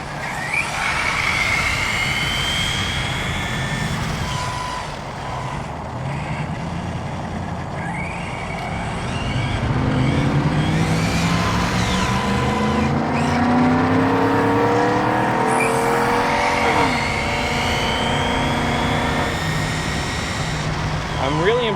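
A WLToys 104001 RC car running on new wheels and tires, its electric motor whining and rising and falling in pitch as it spins up and drives, steady and loud, while a person talks over it.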